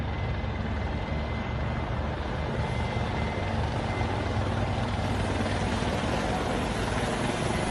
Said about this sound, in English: These helicopters are flying in a beautiful formation.